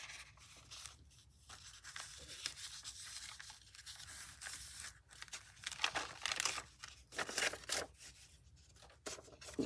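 A fragile old book page is torn and trimmed by hand, making close, soft crinkling, rustling and ripping sounds in uneven bursts, with no talking.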